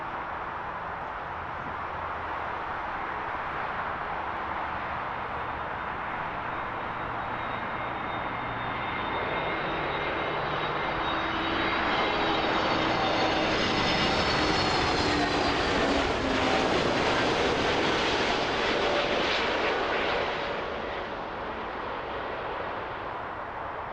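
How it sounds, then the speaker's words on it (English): An airliner goes around at Toronto Pearson airport, its engine roar building from a distant rumble to a loud, broad swell at the peak before easing off as it climbs away. "That is a go around."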